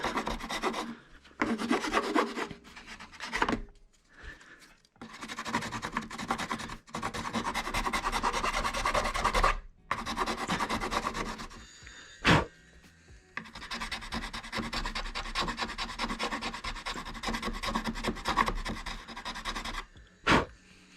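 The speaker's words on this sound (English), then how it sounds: "And then you want to sand it down." A plastic surface is sanded by hand during a Subaru Crosstrek 2.7k engine build, making close, raspy scrubbing strokes in long bursts separated by short pauses.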